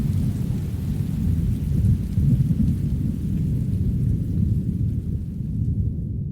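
Steady rain hisses and patters while a deep, low rumble of thunder rolls underneath, continuous and fairly loud.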